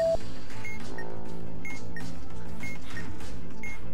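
Short electronic beeps from a bomb module in the video game Keep Talking and Nobody Explodes repeat every half second or so at a steady mid-level, over a continuous musical hum.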